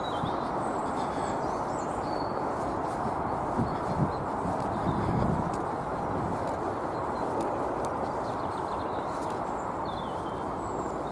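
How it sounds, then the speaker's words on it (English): Blackbirds sing in a Victoria Park setting by a river, short high phrases scattered over a constant broadband rush of flowing water, the birdsong faint and intermittent. "Plenty of blackbirds about."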